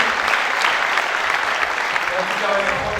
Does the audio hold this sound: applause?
yes